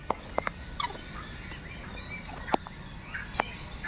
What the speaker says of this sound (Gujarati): લીલી પાંખ વાળા મકાઉ